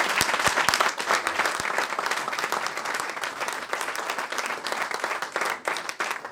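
A church congregation breaks into loud, sustained applause, a dense steady wash of clapping with a few sharp individual claps standing out near the start.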